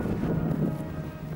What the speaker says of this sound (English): It's visible, the wind driving the snow.